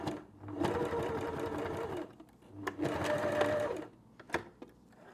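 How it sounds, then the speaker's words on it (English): A sewing machine stitches a tote bag in two steady whirring runs, close and loud, separated by a short pause and followed by a few brief clicks as it stops and starts. "And again, just a couple of stitches back and forth at the beginning and end."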